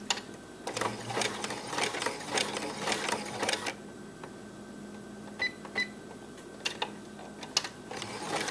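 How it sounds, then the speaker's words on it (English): Sewing machine running a zigzag stitch on a bra, bursts of quick mechanical stitching close by in the first half, then scattered clicks and handling noises after it stops. "Cut the machine back on and set up my zigzag."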